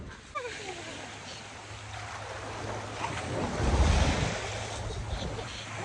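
Sea waves wash onto a beach at Exeter with a broad rushing surge that swells toward the middle, mixed with gusty wind buffeting close by.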